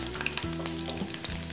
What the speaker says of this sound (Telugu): సో ఇలా నూనె వేడెక్కగానే ముందు ఎక్కువ వేగడానికి టైం తీసుకుంటాయి కాబట్టి వెల్లుల్లిపాయలు